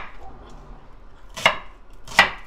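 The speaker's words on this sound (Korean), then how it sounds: "양파를 쪼개서 갈아." A kitchen knife splits an onion during green onion kimchi preparation, giving two sharp, distinct chops against a cutting surface in an otherwise quiet room.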